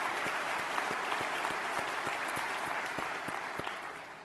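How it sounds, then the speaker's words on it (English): Attendees at a transportation association gathering at a resort give a round of applause, a steady, fairly close burst of many hands clapping that fades slightly toward the end. "Let's give them another round of applause."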